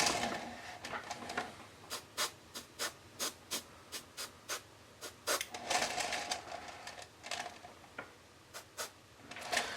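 Short hissing bursts from an airbrush spraying paint on a custom statue repeat in a loose rhythm, about a dozen quick close puffs, with a faint background hum and no talking.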